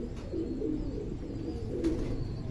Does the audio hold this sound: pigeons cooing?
yes